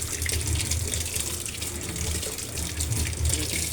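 Hot water runs steadily from a tap in a continuous close splashing stream, with no voices over it.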